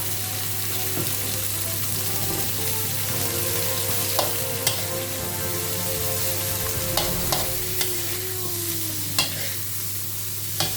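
Bean sprouts stir-frying in a pan: a steady, close sizzle runs throughout, broken by occasional sharp clicks of a utensil against the pan.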